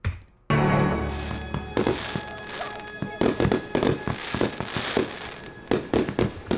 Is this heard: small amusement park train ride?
no